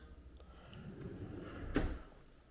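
A trash can drawer in a kitchen island slides and thuds shut with one quick, close knock over a quiet room.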